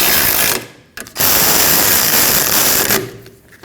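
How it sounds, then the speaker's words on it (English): Ratcheting wrench tightening 12mm bolts on a rear brake backing plate of a 2003-2008 Subaru Forester, with loud, close, steady clicking runs broken by a brief pause and tapering at the end. "then tighten those two 12mm bolts"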